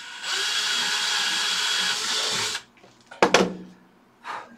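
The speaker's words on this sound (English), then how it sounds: "And I come around here and drill another one, getting it even with my other." A power drill whirs steadily for a couple of seconds as it bores into a model rocket nose cone and fusion assembly. It stops, followed by brief clatter and handling noises.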